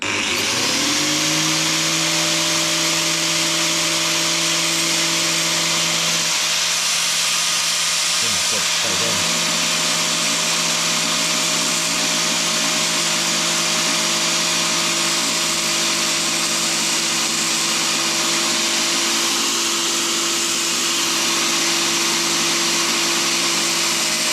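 A power tool whines steadily at high speed while cleaning up the edge of a bolt in a workshop, loud and close, holding a constant pitch with a brief dip partway through.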